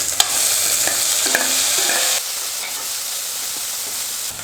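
Chopped tomato tipped into shallots sautéing in oil for sundakkai vathal kuzhambu, a loud close sizzle with spoon-scraping stirs that eases into quieter steady frying.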